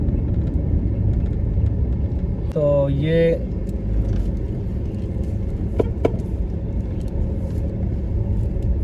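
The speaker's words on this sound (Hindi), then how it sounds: "तो ये टूल प्लाजे पे रश लगा हुआ है, रश टूल प्लाजे पे रश लगा हुआ है।" Steady low road rumble of cars idling and creeping in a traffic jam at a toll plaza, with a brief rising horn-like tone and a couple of short clicks, while someone speaks briefly.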